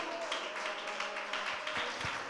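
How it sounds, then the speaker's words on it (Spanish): Church congregation applauding at moderate volume, a diffuse wash of clapping with a few sharper claps and faint voices underneath. "Un aplauso al Rey de Gloria."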